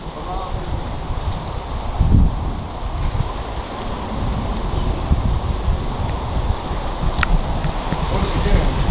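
Wind blowing hard outdoors, buffeting the microphone in a steady roar with gusty surges, while people talk in the background.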